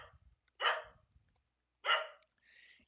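A dog barks twice loudly in a home during a Duke vs. USC Upstate basketball broadcast, with a higher yelp trailing at the end and faint broadcast sound between.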